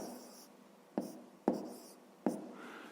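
A fraction is handwritten on paper, heard as quiet close scratching strokes with three sharp taps of the pen, faint and unaccompanied by talk.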